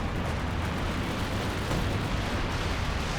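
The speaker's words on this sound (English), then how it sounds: "Some sort of form of artillery, some major artillery." An artillery barrage in the video game Company of Heroes 2 makes a dense, continuous rumble of overlapping explosions and booms. The low roar is loud and unbroken, with no speech over it.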